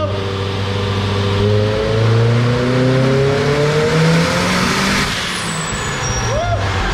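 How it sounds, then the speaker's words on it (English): A car engine running boosted on E85 revs up close and loud. The pitch climbs smoothly as the revs rise, hangs high, then falls away, with a brief upward chirp near the end. "She's definitely sounding faster, that's for damn sure."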